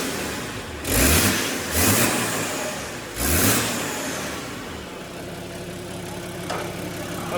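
A small 8HP Defender engine on a first-start build revs in three short bursts, then settles into a steady idle, close and fairly loud throughout.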